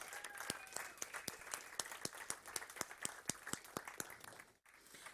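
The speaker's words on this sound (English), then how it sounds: "So that deserves a round of applause." Hackathon audience applauding at a live startup competition, a steady, fairly close wash of clapping with crisp individual claps and a little crowd noise, cutting off briefly near the end.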